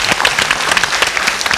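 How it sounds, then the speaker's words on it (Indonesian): An audience at a university event applauds, a dense, loud, continuous wash of many clapping hands. "Kita beri tepuk tangan dulu."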